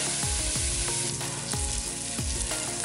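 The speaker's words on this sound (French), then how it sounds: "J'ajoute maintenant l'huile végétale, la préparation que j'ai passée à la mixette et je vais faire revenir quelques minutes." Vegetable oil and a blended paste frying on the sauté setting of an Instant Pot, a steady loud sizzle with crackling pops and occasional stirring scrapes, no voices.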